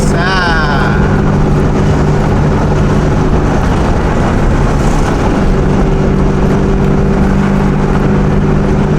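A Proton Saga with a single-cam 4G93 engine runs on a race track, its engine drone loud and steady throughout with rushing wind noise, while a person talks over it.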